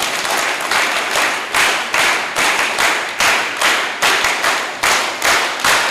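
An audience claps together at a closing ceremony of a de-addiction camp on family day, giving a dense, sustained applause that swells and pulses in waves throughout, with no voices over it.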